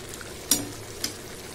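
Eggplant and dried fish curry simmers in a pan with soft bubbling and gentle sizzle, broken by two brief clinks of a utensil against the pan, faint and close.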